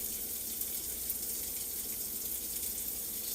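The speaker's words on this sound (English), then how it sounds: "while I rinse my knife off" Steady running tap water pours in a kitchen sink as a chef rinses a knife, a constant close gush with no talking.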